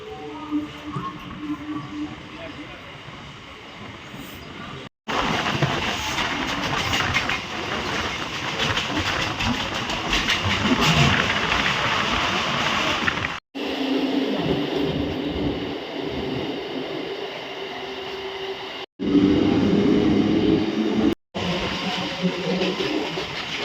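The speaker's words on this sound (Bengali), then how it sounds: "বিধাননগর রোড কিন্তু ছাড়লো ট্রেন" Local train pulling out of Bidhannagar Road station, a loud steady rumble and clatter of wheels on rails rising and continuing throughout, broken by a few brief dropouts.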